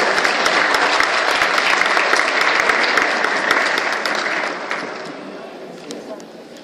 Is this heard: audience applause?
yes